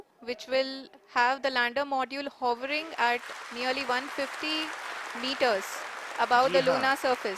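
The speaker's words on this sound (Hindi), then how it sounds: "जी हाँ, आप इस तालियों के गड़गड़ाहट को सुन सकते हैं" Scientists in a mission control room applaud during the Chandrayaan-3 lunar landing, a dense burst of clapping heard under continuous commentary from a narrator, partly masked by the voice.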